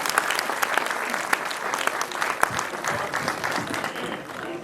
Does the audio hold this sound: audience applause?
yes